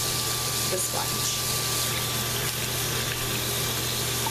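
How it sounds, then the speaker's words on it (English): Running tap water rinses a makeup blender sponge during cleaning with a solid cleanser, a steady broadband gush under a low pump-like hum, continuous and close throughout. "I'm going to rinse the sponge."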